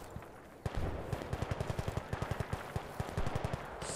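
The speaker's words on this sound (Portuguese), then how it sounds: "já tem alguém atirando em mim" Rapid automatic rifle fire in Battlefield Bad Company 2 multiplayer, a steady string of sharp shots in quick rhythm after a brief quiet start, with a slightly heavier burst near the end.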